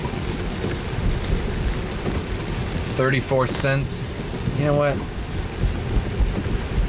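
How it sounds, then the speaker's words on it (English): Rain falls steadily in a broad hiss through a storm, with low rumbling beneath it. Someone speaks briefly over the downpour partway through. "Let's just fucking charge and wait for this rain to calm down."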